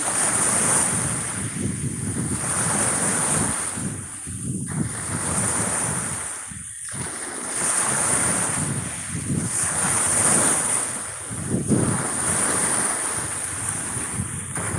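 Sea waves surge and wash in continuously on the coast at Plataria, Greece, with wind buffeting the microphone and a steady high whine in the background.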